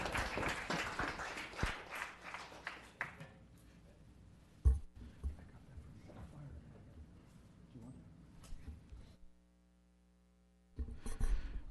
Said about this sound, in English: One more round of applause for Mr. John Lochner.